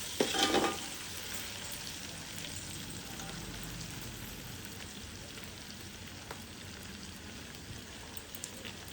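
Irrikaya pieces fry in hot oil with a continuous soft crackling sizzle, preceded by a brief louder burst of spitting at the start, steady and close with no talk.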